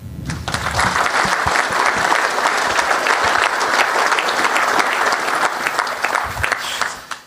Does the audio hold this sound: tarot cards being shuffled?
no